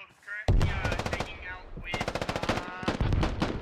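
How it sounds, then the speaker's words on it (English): Heavy DShK machine gun fire in the tactical shooter Squad, rapid bursts of loud, closely spaced rounds with a brief pause between two strings of fire, plus a faint voice over the shots. "So the Dishka is still adding some fire here now"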